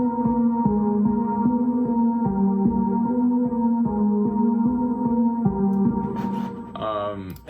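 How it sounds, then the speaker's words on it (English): Analog bell-like synth pattern from a dark, eerie electronic track: a repeating sequence of sustained tonal notes, loud and close, ending with a brief sweeping, glitchy tail. "And then for the analog bells, the pattern is like this."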